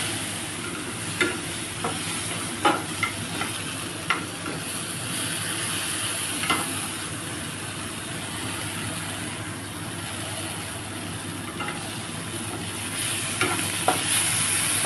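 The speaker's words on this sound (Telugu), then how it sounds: "వేసి ఈ చింతపండు రసంతో దీన్ని కలుపుతున్నాను." Okra curry being stirred with tamarind juice in a pan, a steady soft sizzle and scraping with occasional sharper clicks of the spoon against the pan, continuing without any voices.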